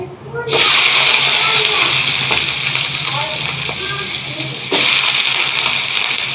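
Chopped bottle gourd dropped into about two spoons of hot oil in a pan sets off a loud, steady sizzle and crackle that runs throughout, swelling again near the end.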